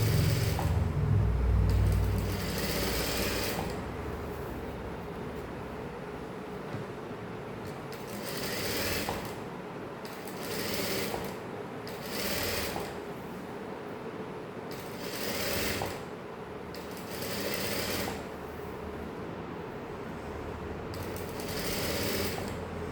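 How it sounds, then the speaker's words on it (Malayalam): A sewing machine stitches a saree in a series of short whirring runs separated by brief pauses, a close, rhythmic mechanical hum that starts and stops repeatedly, with no talking. "ഇതിങ്ങനെ തന്നെ ഒരു തയ്യലും കൂടി ഇട്ടിട്ട്"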